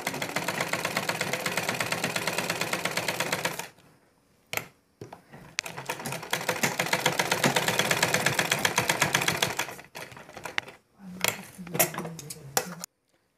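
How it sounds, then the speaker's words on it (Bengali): A sewing machine runs in long steady bursts while stitching a hijab, loud and close, with short pauses between runs and brief handling noises. "এভাবে আমি সেলাই দিচ্ছি, একই নিয়মে আপনারা সেলাই দিবেন। এখান থেকে মাঝখানে আমি সেলাই দিচ্ছি।"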